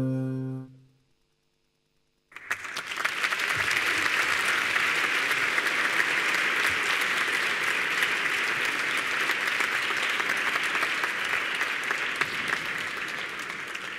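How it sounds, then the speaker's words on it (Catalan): After a short pause, an audience at a hospital Christmas event breaks into loud, sustained applause, a dense, even wash of many hands clapping that holds steady for over ten seconds. "No estem gaire acostumats, no, els periodistes, que ens aplaudeixin"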